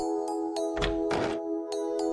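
Knocking on a small house's door in a forest, heard as a couple of dull thuds over a soft steady tone, with faint rapping around them.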